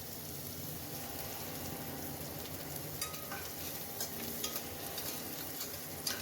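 Finely chopped onions fry in a pan, a dense, even sizzle with soft popping and occasional stirring clicks, close and steady, no speech.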